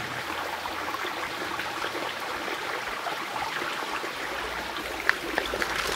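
Steady rushing river water with splashy, broadband wash throughout, a couple of sharper splashes near the end, close by.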